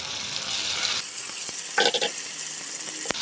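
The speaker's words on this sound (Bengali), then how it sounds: "এই যে জিরা বাটা দিয়ে দিলাম, আর এখানে লঙ্কা বাটা আর আদা বাটাটাও দিয়ে দিব" Cumin, chili and ginger pastes hit hot oil in a pan for a fish curry, giving a loud close sizzle that drops sharply after a second, then a short burst of spattering and a few light taps, with no speech.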